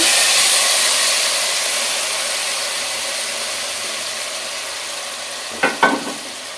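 Hot oil sizzles in a pan while a sweet and spicy pickle is cooked, a steady, loud hiss running throughout, with a couple of brief clatters near the end.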